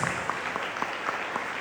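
A church congregation claps together in praise of God, a brief burst of even, rapid hand claps at moderate loudness.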